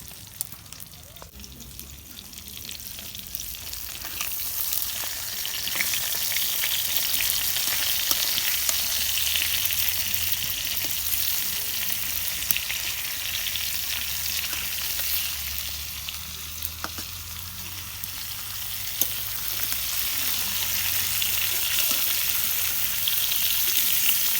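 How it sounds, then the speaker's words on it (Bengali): Pangas fish fries in a pan with a steady, dense sizzle and crackle that swells slightly after the first few seconds and holds close and even throughout. "মাছ ভাজা হয়ে গেছে এখন আমি নামিয়ে নেব"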